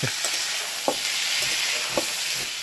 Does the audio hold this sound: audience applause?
no